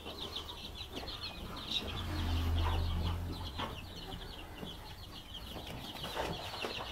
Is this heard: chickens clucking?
yes